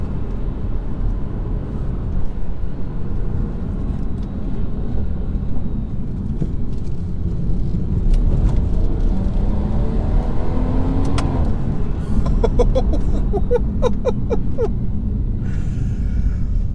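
A Stage 1 tuned 2018 BMW M140i on Michelin PS5 tyres in dry weather, heard from inside the cabin as the engine pulls hard under acceleration, a steady loud rumble rising in pitch without any talk.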